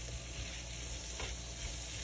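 Garlic butter shrimp cooking in a pan, a steady close sizzle and crackle of butter with faint stirring, no voices.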